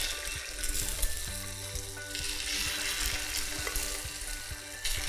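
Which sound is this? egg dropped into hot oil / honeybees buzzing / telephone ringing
egg dropped into hot oil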